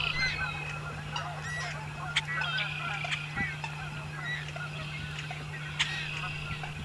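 American coots in a marsh give repeated honking, nasal calls over a steady hum, with several birds calling back and forth at moderate distance.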